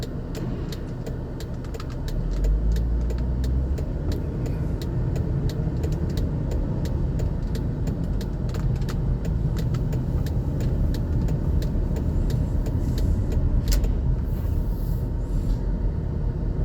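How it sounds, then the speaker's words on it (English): Cars roll past on a road on Belle Isle in Detroit, heard from a vehicle pulled over to the side, a steady loud rumble of tyres and engines that swells after two seconds and holds. "I'll pull over and let a couple cars by"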